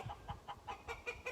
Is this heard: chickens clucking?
yes